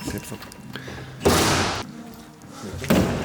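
Plastic interior door panel on a BMW E36 pops off with two sharp, loud thumps about a second and a half apart, amid quieter handling noise and people talking.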